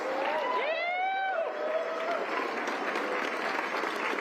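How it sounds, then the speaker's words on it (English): Applause and cheering from a crowd at the start of a mountain skyrace, with whistles or shouted cheers rising over the clapping early on, then a steady, dense wash of hands continuing to the end. "Let's give them a really big round of applause"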